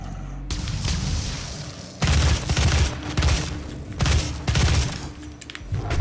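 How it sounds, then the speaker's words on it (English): Grenade explosions in the video game Doom, a set of heavy booming blasts with rumbling low end, each burst recurring every second or two and fading into debris-like crackle. "That's how you grenade"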